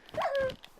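A tamed wolf dog in Minecraft gives a single short, close, whining bark-yip with a bright tonal pitch, heard clearly alone.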